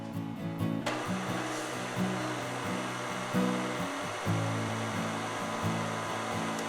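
An electric mixer runs on low through shortbread dough, a steady close motor whine with a rhythmic pulsing hum as the beaters churn the flour and butter.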